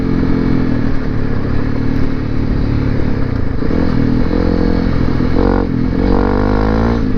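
A Honda CRF250L Rally motorcycle with an FMF exhaust rides along a fire road, its engine droning loudly and steadily with slight rises in revs, wind and clatter mixed in.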